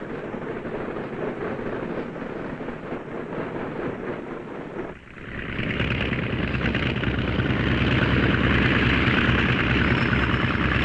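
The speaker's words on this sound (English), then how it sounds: "Ground control having given us permission, we taxi over to the warm-up block." A light airplane from 1953 taxis toward the warm-up block, its engine a steady loud drone that dips briefly and then rises to a stronger, brighter roar.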